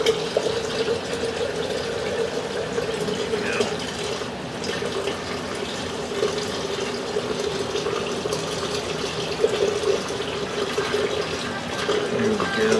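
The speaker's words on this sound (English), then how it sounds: "we're going to go ahead and pour some water down through here and be able to watch it flush it out" Water poured down a drain to flush out debris, a continuous close gushing and splashing stream that holds steady throughout, with faint voices under it.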